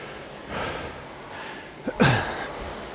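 A rower breathes hard during a maximum-intensity rowing workout, with a few heavy exhalations and a sharp gasping intake near the end, close and moderately loud over a low background hum.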